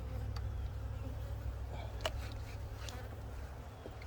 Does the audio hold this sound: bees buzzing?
yes